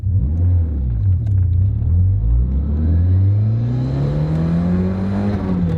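An old turbocharged all-wheel-drive rally car accelerating hard from inside, engine note climbing steadily through a gear with loud rumbling drone and rising pitch, no talking.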